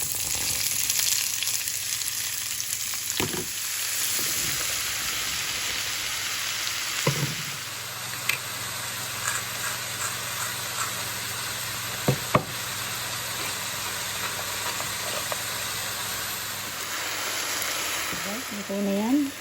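Garlic sautéing in three tablespoons of melted butter with olive oil in a pan, a steady close sizzle with occasional utensil knocks and clatter.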